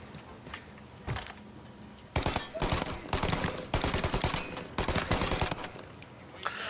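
Gunfire in the video game Mafia: Definitive Edition, sharp shots arriving singly and then in rapid clustered bursts, fairly close and punchy against a quiet background.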